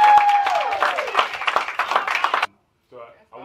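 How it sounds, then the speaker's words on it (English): Audience applause with cheering voices, loud and dense for about two and a half seconds before it cuts to silence, then faint speech follows. "let's give her a round of applause, y'all"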